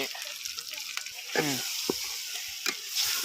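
Masala-marinated chicken frying in a pan and being stirred, a steady close sizzle broken by scraping and clattering strokes of the spoon, with a voice briefly audible.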